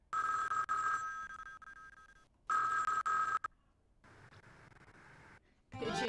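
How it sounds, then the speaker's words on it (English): A telephone rings in a Jim Henson Sesame Street video game, two long bursts of electronic bell ringing separated by a pause, clear and fairly quiet against faint game background noise. "Bert, answer the phone!"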